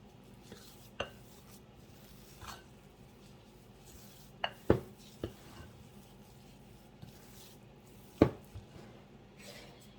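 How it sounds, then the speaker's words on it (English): Raw apple cake batter being mixed in a bowl, with a handful of sparse, sharp utensil knocks and scrapes against the dish over a quiet background. "Let's get that mixed in."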